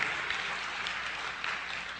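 An audience claps in a short, steady burst of applause that stays fairly faint and even throughout.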